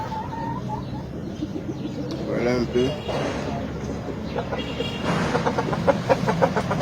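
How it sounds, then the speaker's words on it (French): Five hens and a rooster cluck and chatter nearby in short rhythmic bursts, with someone speaking briefly over the birds. "Voilà, 5 femelles et un mâle. Ce sont des poulets naturellement bio."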